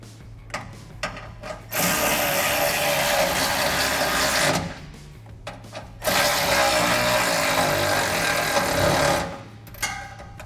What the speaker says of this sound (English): we're gonna tighten these down with our 13 millimeter socket